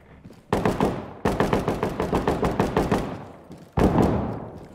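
Loud, close gunfire in the video game Ready Or Not: a single shot, then a rapid burst of automatic fire, then another heavy shot, with echoing tails.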